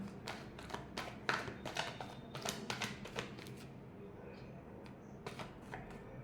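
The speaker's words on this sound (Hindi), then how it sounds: "बहुत सारे कार्ड है, लास्ट शफल लेंगे।" Tarot cards riffled and shuffled during a horoscope card reading, a run of quick papery flutters and taps over roughly four seconds, then a quieter stretch with a few light slaps.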